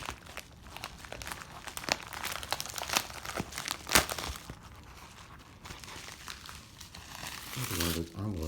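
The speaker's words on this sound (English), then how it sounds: "Another one of those envelopes that some people just do way too good of a job with the bubble wrap" Close crinkling and tearing as a padded envelope lined with bubble wrap is pulled open, in irregular crackling bursts with one sharp snap, and a voice speaks briefly near the end.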